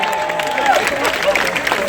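A crowd breaks into applause, a brief dense burst of clapping mixed with a voice speaking over it.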